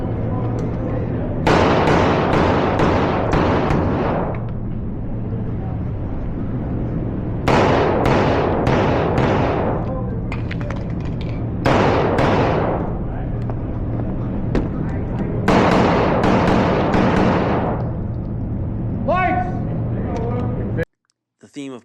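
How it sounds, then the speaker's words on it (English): Pistol fire during an IDPA shooting stage at an outdoor club range, with loud bursts of rapid shots in several strings separated by short pauses, close to the listener. "Pulled the last 2 shots of the stage just below the black hardcover, and an unnecessary reload before I had to."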